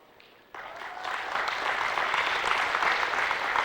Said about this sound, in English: Justin Libby also deserves a big round of applause